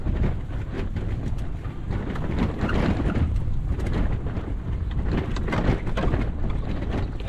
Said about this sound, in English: Bit of savage wind.